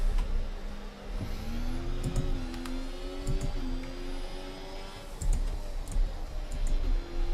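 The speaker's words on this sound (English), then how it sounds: "Sounds like a car behind me." In F1 24 at Monza, an F1 car's engine whines in steady, rising and falling tones with gear-shift steps, accompanied by rapid clicking from a controller or keyboard.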